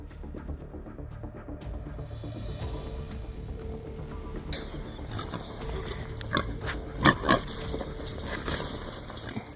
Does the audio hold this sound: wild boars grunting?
yes